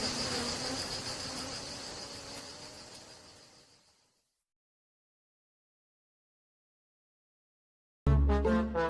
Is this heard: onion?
no